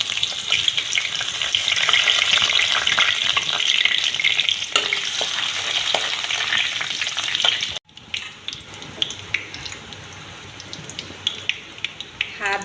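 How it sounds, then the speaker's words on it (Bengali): Dried red chillies and chopped ginger fry in mustard oil in a wok, giving a loud dense sizzle that abruptly drops to a quieter crackle with scattered pops and clicks. "তেলের মধ্যে দিয়ে দিলাম শুকনো লঙ্কা আর আদা কুচি"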